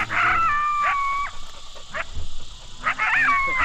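Dogs barking and howling during a coyote hunt, several yips and drawn-out wavering howls at moderate distance, with brief gaps between outbursts.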